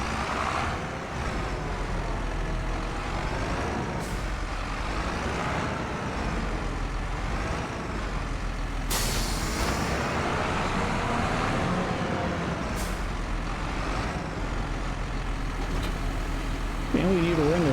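A tractor engine in Farming Simulator 25 runs as a steady, loud low drone throughout, with brief higher bursts and a short whine near the end.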